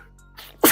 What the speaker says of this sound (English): sorry, I was about to sneeze.